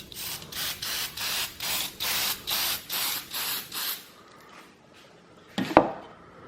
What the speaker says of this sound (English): I'm gonna just spray down the channel.